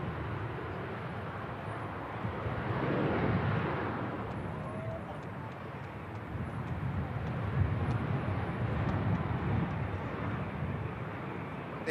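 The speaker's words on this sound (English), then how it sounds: "This Ryanair on the return to Milan" A Ryanair jet airliner departing Manchester Airport for Milan, a broad rumbling engine roar that swells, eases and builds again at moderate distance, with brief high whistling tones drifting above.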